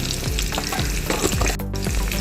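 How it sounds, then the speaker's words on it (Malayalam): Mustard seeds, shallots and dried red chillies crackle loudly in hot coconut oil, a dense close-up sizzle with repeated rhythmic sweeps of a stirring spoon. "ആവശ്യത്തിന് വെളിച്ചെണ്ണ ഒഴിച്ച് ഒരു സ്പൂൺ കടുക് ഇട്ടു ചെറിയ ഉള്ളി അരി രണ്ട് വറ്റൽ മുളകിട്ട്"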